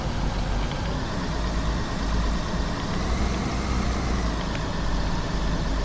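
Train locomotive engine running in Train Sim World, heard from outside as a steady, loud low rumble with constant broadband noise throughout, no talk over it.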